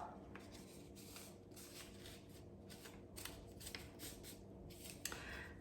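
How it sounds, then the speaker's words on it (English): Scissors trim excess paper from a folded paper Christmas decoration, a quiet series of close snips and papery rustles repeating irregularly over several seconds, with no talk. "So I'm just going to trim the excess off."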